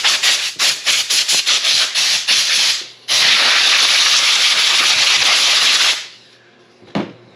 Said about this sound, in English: So the first thing we want to do is just take some compressed air.